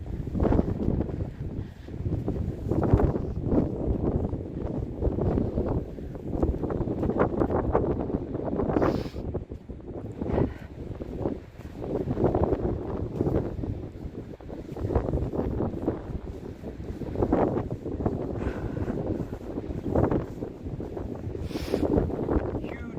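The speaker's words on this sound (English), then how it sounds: "It's gonna be windy again" Outdoor wind buffets the microphone in heavy, uneven gusts, a constant low roaring rumble with sharper bursts throughout, nearly drowning everything else.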